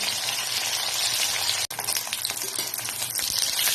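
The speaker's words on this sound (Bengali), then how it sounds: "এই যে আরেকটা সাইড ভেজে নিয়ে তুলে নিচ্ছি।" Meni (nandus) fish frying in hot oil over a medium gas flame, a steady close crackling sizzle with dense spattering that drops out for an instant midway, then carries on evenly.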